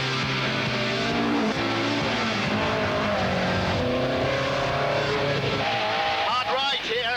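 Rally car driven hard along forest stages, its engine roaring loud and continuous at close range with rising and falling revs as it accelerates.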